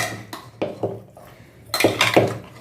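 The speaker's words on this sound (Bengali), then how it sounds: "এবার এটা একটু নাড়িয়ে" A spoon clanks and scrapes against a cooking pot while Odisha-style dalma is stirred, several separate knocks with short pauses and a busier cluster of scrapes near the end.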